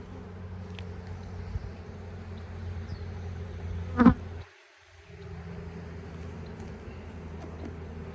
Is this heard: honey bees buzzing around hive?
yes